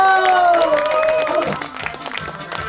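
Audience applause at an outdoor pumba comedy performance at Banwol Lake Park in Gunpo, a steady wash of many hands clapping mixed with a sustained tonal voice or music and crowd noise.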